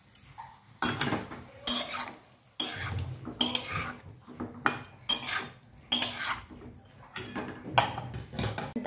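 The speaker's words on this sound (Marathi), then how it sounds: "टोमॅटो टाकल्यानंतर सर्व मिक्स करून घेऊया।" Spoon scraping and clanking in a pan as tomato is stirred into a spicy chicken curry, irregular bursts of metallic stirring strokes with quieter gaps and a faint sizzle beneath.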